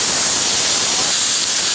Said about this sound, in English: It won't open unless you let the steam out